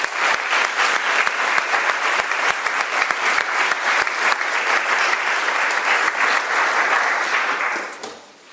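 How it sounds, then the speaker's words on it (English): Loud, sustained applause from a large audience, many hands clapping in a thick even roar that fades out near the end. "let's also give them a round of applause."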